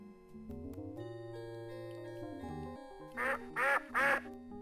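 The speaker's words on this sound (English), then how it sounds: "Ducks." Three loud cartoonish duck quacks in a quick row from the Sam & Max Hit the Road adventure game, following a sustained electronic game tune and standing out clearly above it.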